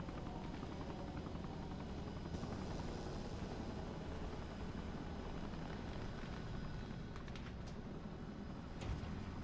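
Helicopter in the Arma Reforger game, with a steady, dense rotor and engine roar holding throughout at low volume and a few faint clicks near the end.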